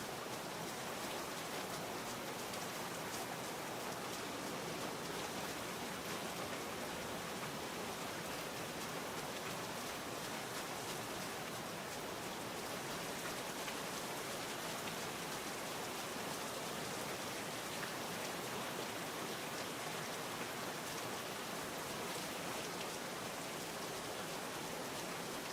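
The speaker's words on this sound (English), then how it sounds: "I think by now the rain sound should have stopped." Steady, dense rain from the video game Virtual Hunter hisses across the whole range without a break, loud and continuous with no voices over it.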